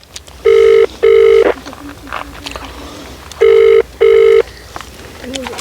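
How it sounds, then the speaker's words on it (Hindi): Outgoing phone call ringing back on a mobile, two pairs of loud electronic ring tones with a pause between them, heard outdoors near farm fields, with faint voices in the gaps. "भाई लेखपाल साहब फोन नहीं उठा रहे हैं, फिर से लगाएंगे।"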